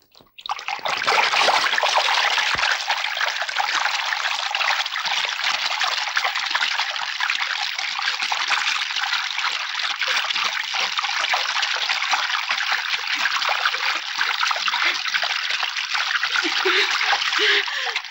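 Cold water gushes steadily from a tap, a loud continuous splashing rush that starts abruptly and runs close and unbroken to the end.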